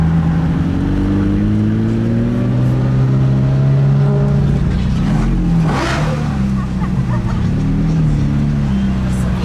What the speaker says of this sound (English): We can hear the cars blasting around the racetrack as we now make it in.